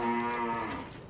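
A cow on sale for qurban lets out a single loud, close moo that falls in pitch and fades over about a second.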